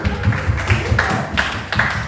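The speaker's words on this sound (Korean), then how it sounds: "오, B형 박수" A church congregation claps together in a quick, steady rhythm of sharp, close hand strikes that runs through the whole moment. Low voices murmur underneath.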